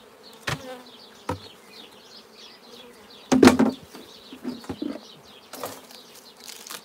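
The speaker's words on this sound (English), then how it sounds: "Absolutely full of bees." Honey bees buzzing around an open beehive, a close, steady hum with several louder buzzing swells as bees fly past, heard with no talking.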